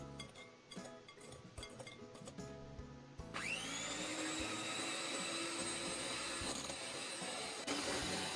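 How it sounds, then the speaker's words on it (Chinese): An electric whisk beats one egg with 50 g of sugar in a large bowl, switching on at high speed with a rising whine that settles into a steady, faint buzz after a few seconds of light clattering. "我们用打蛋器高速打发。"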